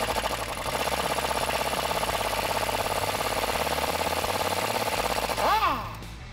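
On a 2004-2019 Ford F150 front leveling kit install, an impact gun hammers an 18 mm nut in a loud, rapid, steady rattle for about five seconds, then spins down and stops.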